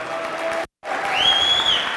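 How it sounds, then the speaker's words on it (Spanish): A crowd at a company training event applauds newcomers: a broad wash of clapping, briefly cut out, then resuming with a thin high whistle-like tone riding over it. "Ponles un fuerte aplauso a todos los que vienen por primera vez"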